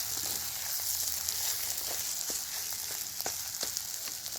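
Bitter gourd sizzling in a pan as it fries and is stirred, a steady soft hiss with occasional light scraping clicks, no voices.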